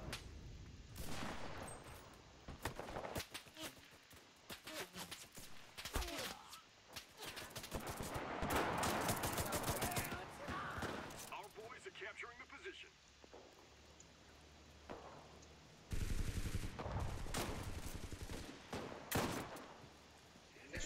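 Gunfire in the World War game Enlisted, with bursts of shots and rattling fire scattered through a busy battle mix, dense and loud in the middle, while someone talks over parts of it.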